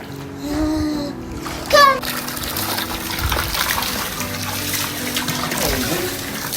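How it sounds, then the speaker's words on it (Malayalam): Water gushes and splashes steadily into an inflatable pool, a continuous rushing flow with a brief louder splash partway through, and faint voices in the background. "ഇപ്പോഴും അയില് വെള്ളം ഇങ്ങനെ നിറച്ചുകൊണ്ട് നിൽക്കട്ടോ"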